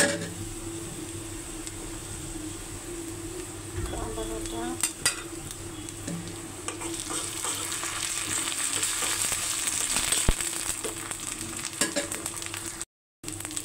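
Ginger paste sizzles and crackles steadily in a pan with browned onions, with scattered clinks of a utensil stirring and scraping, and one brief dropout near the end.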